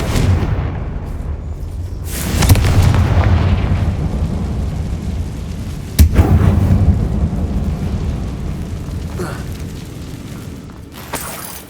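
Confringo fire spell blasts inside a closed, tomb-like mine in Hogwarts Legacy, with a heavy booming explosion around two seconds and a sharper bang near six seconds over a rumbling low background.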